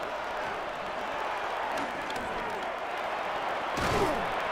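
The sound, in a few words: stadium crowd noise in a football video game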